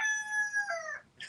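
A rooster crows once, a loud, close, drawn-out call with clear harmonic tones that rises, holds and then falls away, with a brief squawk at the end and no talk over it.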